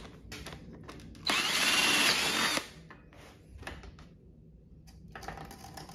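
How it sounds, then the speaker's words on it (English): A power drill with a half-inch bit whirs steadily for about a second, close and loud, between quieter handling noises and light clatter. "I'm going to drill my hole in the center where I want it to be"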